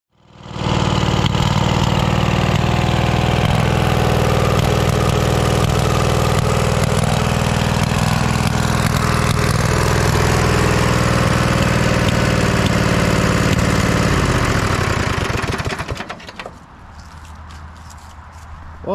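Small engine on a Cub Cadet RZT zero-turn mower with a likely dirty carburetor, running steadily and loud at close range with a rough droning hum, then cutting out near the end.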